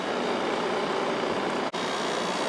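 A Kenmore 5,450 BTU window air conditioner runs on high speed, its fan giving a steady, loud broadband whoosh with a faint low motor hum and one brief dropout.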